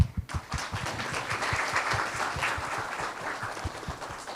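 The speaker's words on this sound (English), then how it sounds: "We applaud to all these distinguished guests tonight." Audience clapping for distinguished guests at a panel event on digital transformation in Africa, a small group applauding with distinct, fairly close individual claps in an irregular steady patter.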